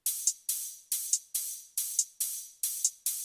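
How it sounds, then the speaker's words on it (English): Looped FL Studio hi-hat pattern for future bass, crisp bright ticks repeating in a steady swung rhythm with short sizzling tails, eight hits over a few seconds, alone and moderately quiet. "A hi-hat loop to add movement,"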